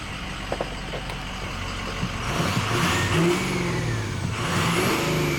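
A 2006 Ford F-250 crew cab 4x4 diesel truck engine idling, then revving up and holding higher rpm, a close, steady rumble that rises and falls with no talk over it.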